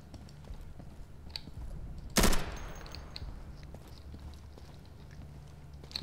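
Gunfire crackles in the tactical shooter game Insurgency: one short, loud burst stands out from a faint background of distant shots and footsteps.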